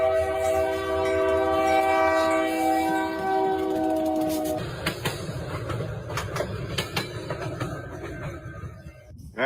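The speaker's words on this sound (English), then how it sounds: "Here comes the train." A train rolls over coins laid on the railroad tracks: a sustained loud horn chord for several seconds, then the horn stops and a heavy rumble with rapid clattering wheel clicks continues close by.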